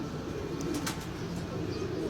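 Pigeons that fell in a storm give soft, low cooing close by under a steady background hum, with a couple of faint high chirps.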